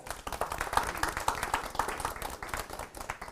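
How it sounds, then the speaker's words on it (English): A room full of people claps steadily, a moderately loud, evenly sustained round of applause with no speech over it. "could we also give them a round of applause, right?"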